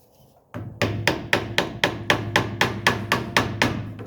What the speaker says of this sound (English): if it's a little stubborn, I'll get a little wooden dowel, put it right here, and just tap it in the rest of the way